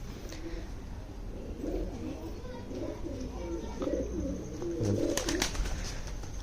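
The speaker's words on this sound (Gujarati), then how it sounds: "અત્યારે જો બધા કબૂતર બહાર છે" Pigeons coo in soft, overlapping rumbling phrases close by, with light rustling and faint background noise throughout.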